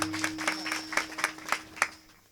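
Brief rhythmic clapping from the audience at a Marathi kirtan during an akhand harinam saptah, about eight evenly spaced claps, moderately close, with a steady tonal hum beneath.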